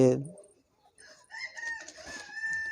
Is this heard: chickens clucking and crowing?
yes